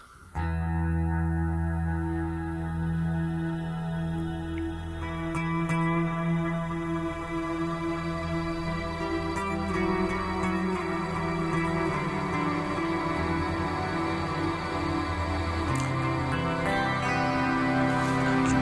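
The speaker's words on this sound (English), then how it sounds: "Ionosphere reverb." Electric guitar played through a Kemper Profiler with the Ionosphere reverb effect, sustained distorted notes and chords swelling into a thick, shimmering wash of long reverb tails, loud and continuous with no talking.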